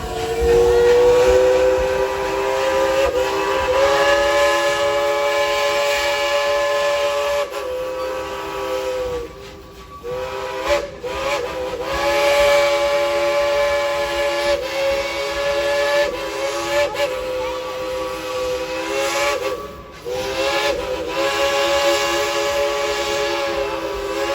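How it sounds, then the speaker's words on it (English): The Dollywood steam train sounds its whistle in long, loud sustained blasts with brief breaks, over a steady hiss of steam, with no talk. "blows our whistle"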